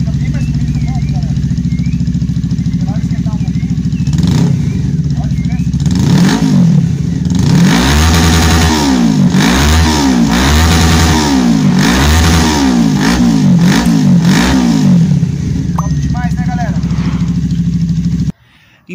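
A motorcycle engine with its dB killer baffle removed revs repeatedly in loud, close bursts, rising and falling in a steady pumping rhythm over an idle before cutting off abruptly.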